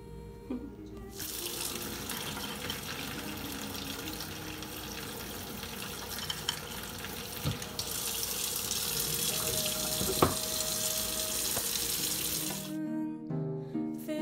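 Water runs from a tap in a sink for about twelve seconds while a fuzzy purple Wandering Jew plant is being repotted. The flow is steady and moderately loud, it stops abruptly, and a few faint clinks follow.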